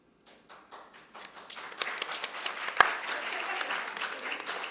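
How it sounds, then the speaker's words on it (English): Scattered hand claps from a small audience start sparse and build into a modest round of applause, steady and fairly close, with a sharp tap near the middle. "I just got like a sympathy clap in it after."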